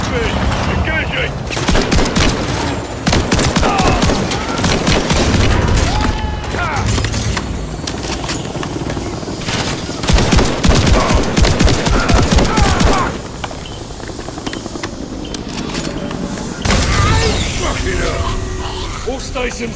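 Sustained automatic gunfire aimed at a helicopter in Call of Duty: Modern Warfare III, dense bursts and booms through most of the stretch, loud and close, with voices talking over the fight.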